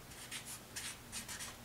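Marker or chalk writing on a board during a chemistry lesson, a run of short scratchy strokes in quick bursts with brief gaps, close by and fairly quiet, no talking.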